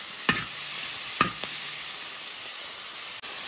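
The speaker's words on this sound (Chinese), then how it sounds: "这个时候咱们加入葱姜， 继续炒香。 炒出葱姜的香味儿。" Chicken being stir-fried with scallion and ginger in a hot wok, a steady oily sizzle broken by two sharp spatula scrapes and tosses near the start, with no talking.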